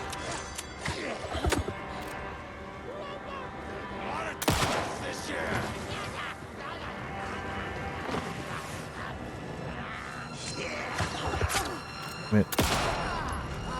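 Scattered gunshots in Alan Wake 2 at Valhalla Nursing Home crack out amid a busy game soundscape, a few sharp loud reports standing out from rhythmic background shooting and effects.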